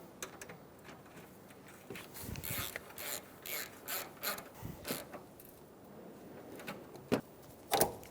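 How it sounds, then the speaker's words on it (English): A ratchet wrench tightens a bolt while a power steering return line hose is replaced on a 2007-2011 Toyota Camry. Short bursts of rapid clicking repeat in an uneven rhythm, close and fairly quiet, ending with a couple of sharper metallic knocks. "Snug the front bolt down."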